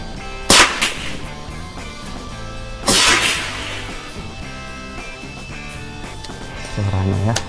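A Megascops Titanium PCP air rifle fires two sharp, loud shots a couple of seconds apart, with a person speaking around them and faint background noise.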